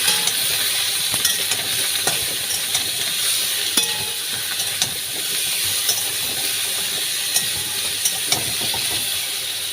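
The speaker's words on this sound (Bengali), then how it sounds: "এবার এটা ভাজা হতে থাকবে একটু।" Spices and turmeric fry in a pan with a continuous loud sizzle and hiss, dotted with small clicks and scrapes from stirring.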